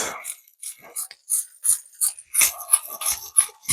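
A worn, beat-up grinder crunches salt onto a bison steak in a series of short, close, rasping grinds with brief pauses between them, and no talking.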